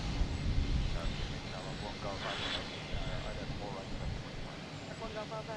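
An American Airlines jet arriving at Boston Logan Airport from Chicago gives a steady, moderately loud engine roar that fills the clip, with a voice speaking quietly beneath it.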